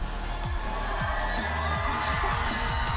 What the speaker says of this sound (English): the fans are cheering very much for Pyosik